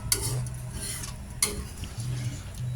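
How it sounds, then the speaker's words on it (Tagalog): Spoon stirring a corn vegetable dish in a cooking pot, with scraping strokes against the bottom and faint bubbling or sizzling, a couple of sharper clinks standing out, close and moderately loud. "kailangan pa rin halu-haluin po para hindi makukurta o mabubuo yung pinakakatas ng mais sa ilalim."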